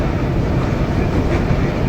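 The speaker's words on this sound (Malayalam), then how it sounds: "നദിയുടെ പാലത്തിലൂടെയാണ് ഇപ്പോൾ നമ്മുടെ ട്രെയിൻ കടന്നുപോയിക്കൊണ്ടിരിക്കുന്നത്" Train crossing the Narmada river bridge on a Delhi to Mumbai run, a loud, steady rolling rumble heard from on board with no voices.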